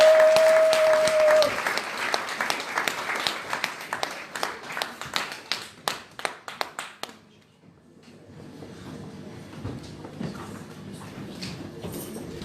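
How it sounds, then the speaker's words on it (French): A church congregation at a French-language worship service applauds loudly for several seconds as the clapping thins into scattered claps, then gives way to quieter murmuring and movement in the room. "Acclamez très fort pour la gloire de Dieu."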